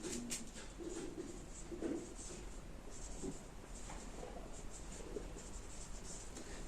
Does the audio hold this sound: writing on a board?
yes